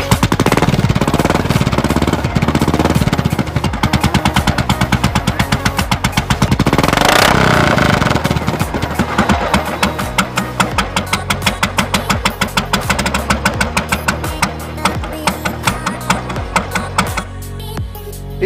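A modified Royal Enfield bobber motorcycle with a custom exhaust runs close and loud, its engine rapping in a rough, rapid thumping pulse that swells mid-clip and then settles into a steadier idle-like beat.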